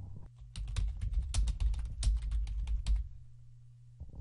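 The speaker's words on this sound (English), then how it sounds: "I'm going to type in social share button" Rapid bursts of typing on a computer keyboard while entering a plugin search term on a WordPress blog, close and fairly loud, with a quiet pause near the end before a final keystroke.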